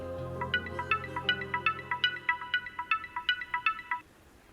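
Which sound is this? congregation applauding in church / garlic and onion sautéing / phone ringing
phone ringing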